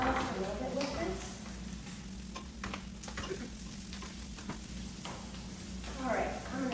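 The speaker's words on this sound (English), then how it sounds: "I am going to go ahead and add the onions in and let them get incorporated and crisp up just a little bit with this." Onions fry with shredded beef for Cuban vaca frita, a quiet continuous sizzle with crackling pops and occasional stirring scrapes in the pan.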